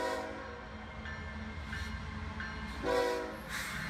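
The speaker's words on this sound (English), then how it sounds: "see this run through Union Pacific coal train." A Union Pacific coal train runs past at a railroad crossroads of the BNSF Springfield Division, a steady rolling rumble of railcars with a brief swell near the end, heard alone without talk.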